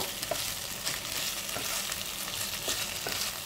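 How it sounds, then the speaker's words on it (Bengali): Potato, raw banana and brinjal frying in a pan, a steady close sizzle with the scrape of stirring recurring every half second or so, no voices. "সবজিগুলোকে ভালো করে নেড়ে নেব"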